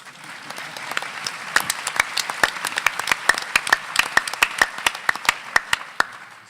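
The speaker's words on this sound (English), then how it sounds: "Round of applause." Crowd applause rings out for newly sworn-in officials and a new mayor at a 2018 swearing-in ceremony, with sharp individual claps standing out from steady clapping that builds and carries on for several seconds.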